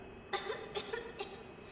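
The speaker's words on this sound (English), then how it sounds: "stop coughing" Three short coughs from one person, spaced about half a second apart, close and moderately loud against a quiet background during a Dark Souls 2 play session.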